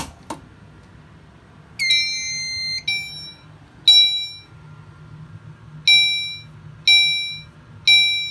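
S464A fire alarm horn going off in a system test, sounding sharp, loud, ringing electronic blasts that repeat in an uneven pattern with quiet gaps between them, close by and with no voices.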